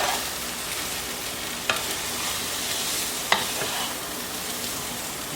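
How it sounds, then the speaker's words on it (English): Green beans and Swiss chard sauté in a pan with a steady, loud sizzle close by, broken by two brief clacks of stirring, no talking. "And just kind of saute them."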